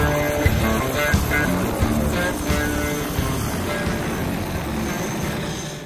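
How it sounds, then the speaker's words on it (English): Constant loud drone of a twin-engine Huey medium-lift helicopter's rotor and engines, a dense steady roar with rhythmic blade chop, close by and unbroken. "The Huey is a twin-engine medium-lift helicopter"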